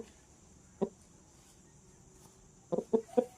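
A Peru cross rooster gives a short, soft cluck, then after a quiet pause a quick run of three or four clucks, close by with no one talking.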